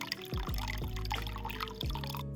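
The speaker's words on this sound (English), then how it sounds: "I turned it on, and lo and behold, a beautiful, peaceful, calm stream of water emerged." Water from a paludarium filter running in a steady stream, with repeated bubbling drips and gurgles over a continuous trickle, close and moderately quiet.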